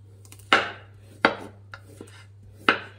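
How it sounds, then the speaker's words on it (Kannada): A knife chopping a carrot into small round slices on a board, with four sharp, well-spaced cuts over a steady low hum and no talking. "ಇದನ್ನ ಸಣ್ಣ ಸಣ್ಣ ಪೀಸ್ ಆಗಿ ಕಟ್ ಮಾಡಬೇಕಾಗತ್ತೆ."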